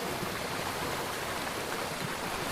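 Steady rain pours down on a washed-out forest trail on a mountainside in Japan, a dense, even hiss of falling water that continues without a break.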